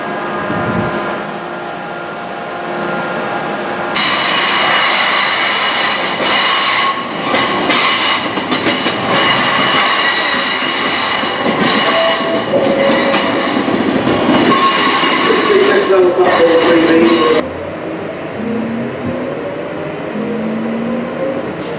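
A Class 323 electric train running on the Birmingham Cross City line, heard from inside with loud steady rumble, clattering wheels and rising motor tones, growing louder midway and easing off near the end.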